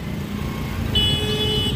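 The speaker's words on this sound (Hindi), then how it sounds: "अबे जयपुर में इतना ट्रैफिक लगता है ना" Busy street traffic in Jaipur hums steadily, and a car horn honks partway through with a sustained bright blare.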